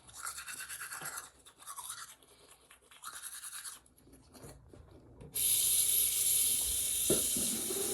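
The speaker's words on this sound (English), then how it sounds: "I'm gonna brush my teeth with it." A toothbrush with homemade paste scrubs teeth in quick, rhythmic close-up strokes, followed by a louder steady hiss of running water.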